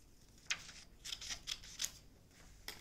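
Scissors snipping through a sheet of colored paper, several quiet, crisp cuts spaced out unevenly over a few seconds in a still room with no voices.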